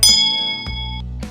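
A bright notification ding rings out, followed by two more chimes, clear and close with short decaying tails.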